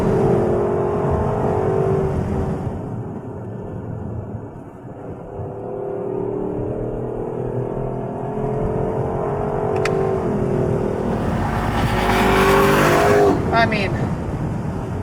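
A Lexus LC 500 Convertible engine revs in a loud, sustained sweep that rises and swells toward the end, with a person speaking briefly over it.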